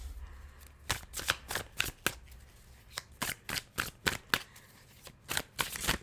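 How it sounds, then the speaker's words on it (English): Tarot cards are shuffled in rapid, crisp snaps, a rhythmic series of a dozen or more sharp flicks close up, with no voices. "Oh, that was a beautiful shuffle."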